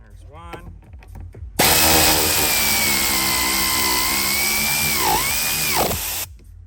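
A power tool drives in the seat bolts on a 2015 Dodge Ram 3500, a loud, steady whirring run of about five seconds close by, with a pitch dip near the end before it stops.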